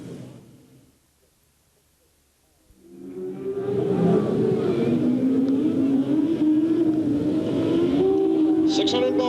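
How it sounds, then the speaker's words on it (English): Race cars of the 600 multi-sprint division warm up at Delta Speedway. After a quiet moment, engines rise to a loud, steady drone as the cars circle the dirt oval, with a voice faintly audible under the engine noise. "600 multi-sprint division warming up for their main event"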